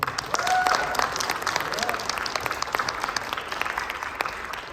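Audience applause for a troupe of Choctaw social dancers at the close of their performance, a steady wash of clapping with some voices and whoops mixed in, fairly close and sustained.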